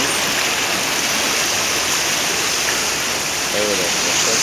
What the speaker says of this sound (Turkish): Şelale gibi bak. Böyle bir suyu, evet, görüyorsunuz.